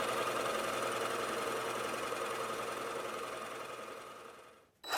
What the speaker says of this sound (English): cut the hole for the plug in the top. I believe this was a 2-inch Forstner bit that fit that plug